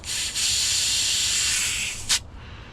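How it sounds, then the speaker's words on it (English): A close, steady hiss of compressed air blown into a valve on heavy-duty equipment runs for about two seconds, with a short pause near the start and a brief sharp burst just before it cuts off. "I'm just gonna blow some compressed air in there."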